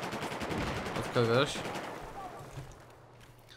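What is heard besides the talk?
gunfire in the video game Battlefield 4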